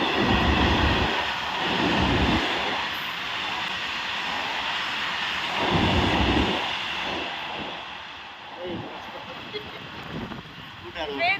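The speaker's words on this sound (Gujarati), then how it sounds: "ટ્રેન પણ આવે છે" A loud rumbling train roars past nearby, its noise swelling and fading in surges while people talk over it.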